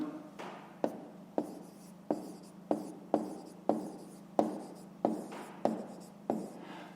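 Handwriting with a pen on paper during a fifth-grade maths exercise, a quiet run of regular scratchy strokes, each starting with a small tap, close and without talk.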